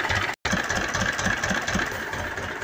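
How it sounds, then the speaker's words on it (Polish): Ursus C-328 tractor engine, freshly rebuilt and breaking in, runs steadily close by with a low, even putting rhythm and one brief dropout near the start. "Pokażę Sawka 28, bo jest po remoncie silnika i się akurat silnik dociera."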